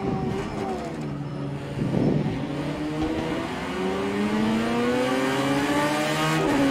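A GT1 race car engine in a VR racing game revs and climbs through the gears, its rising harmonic whine sweeping upward again and again under steady road and track noise, loud and close, with no talking.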